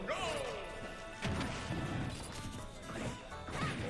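Snake's grenades go off in Super Smash Bros. Ultimate during a tournament match, with a couple of sharp crashing blasts amid game effects and commentator chatter.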